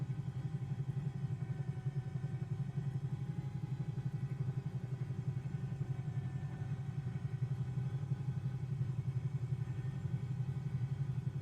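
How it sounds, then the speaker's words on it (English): Inside a Bell 222B helicopter in Microsoft Flight Simulator, the rotor and engines thrum in a low, steady rhythmic drone, with the rotor beat loading down under hard cyclic input, constant and fairly close without talk. "if you really shove the cyclic really hard in any direction, it bogs the rotor head down."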